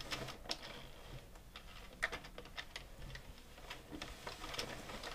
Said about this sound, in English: And we're just going to be knitting back and forth for a total of 18 rows.